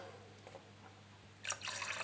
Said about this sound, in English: I need to put 9 millilitres inside to go with the 900 millilitres of water.